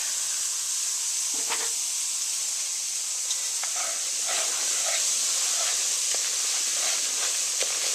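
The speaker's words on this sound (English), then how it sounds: "I'm going to add the flour and let that cook and let it brown" A steady sizzling hiss of flour browning in hot oil for a gumbo roux, with scattered small pops and crackles throughout and no talking.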